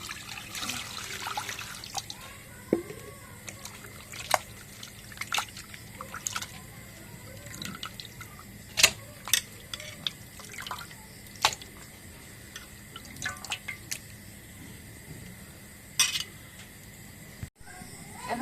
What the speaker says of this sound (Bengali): এখন মাংসগুলো কাটা হয়ে গেছে এখন ধুয়ে নেই